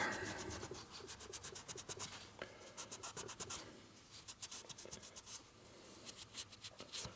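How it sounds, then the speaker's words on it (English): A rag wipes excess sealant off a 1961 Harley-Davidson Sportster XLCH engine part, making faint, quick rhythmic rubbing and scratching strokes in short bursts. "you wipe this off with a rag"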